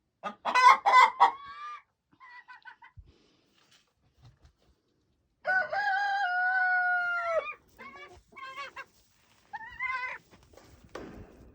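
Backyard chickens and a rooster in a coop give scattered clucks and short squawks, then one long, loud crow in the middle, followed by more bursts of clucking, close by with quiet gaps between.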